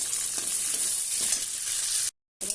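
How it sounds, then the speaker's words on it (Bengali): Carrots and beans fry in a pan with a steady close sizzle and a few soft stirring scrapes, briefly cut to silence near the end. "গাজরগুলো এইভাবে ভেজে নেব।"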